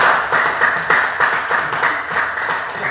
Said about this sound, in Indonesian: tepuk tangan untuk yang menyampaikan jawabannya 8